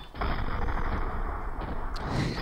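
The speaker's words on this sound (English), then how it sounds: "There's the nade." A grenade detonating in the video game CS:GO, a loud, dense burst that sustains for a couple of seconds with a rumbling tail and a faint crackle near the end.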